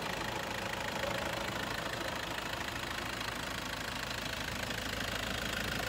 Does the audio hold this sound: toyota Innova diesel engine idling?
yes